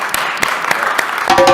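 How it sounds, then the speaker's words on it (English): Audience applause at a community summit, a dense wash of many hands clapping together, loud and steady, with a voice briefly audible near the end. "round of applause for our folks."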